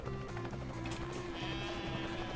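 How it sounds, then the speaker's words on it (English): Sheep in the Ty the Tasmanian Tiger 2 video game bleating, a wavering baa heard over the steady pulsing chop of a helicopter rotor that continues underneath. "the local farmer's sheep got loose and now are stranded"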